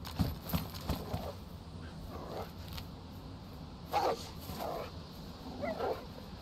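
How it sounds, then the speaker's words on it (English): A dog barks and yips in the DayZ game near Berezino, with several sharp, moderately loud barks in short bursts spread across the span, separated by quieter moments with a faint background rumble and no speech. "A bloody dog."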